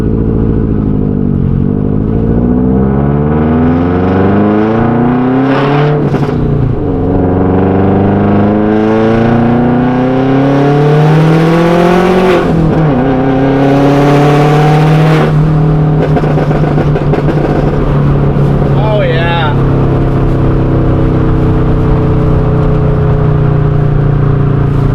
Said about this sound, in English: in-cabin sound of what the car sounds like with the new setup that we got going on